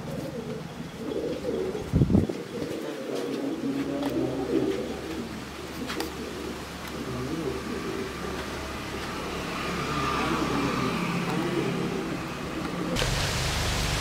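Pigeons cooing, with soft repeated coos over steady outdoor ambience and a brief thump early on.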